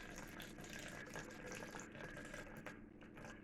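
Vodka being poured into a measuring vessel for a rosemary aperitif, a soft, steady trickle of liquid with faint splashing, heard close and quiet.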